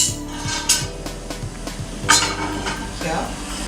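A pressure cooker and frying pan are shifted across a stove, giving a run of metallic clanks and knocks of cookware, loud and close, over a low background hum.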